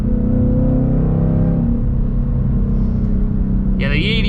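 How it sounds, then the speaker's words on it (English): Ford Mustang GT S650 with E85 full bolt-ons braking and downshifting, its engine a loud steady close rumble that drops in pitch, with a brief blip near the end. "I'm just gonna do all the brake and downshift"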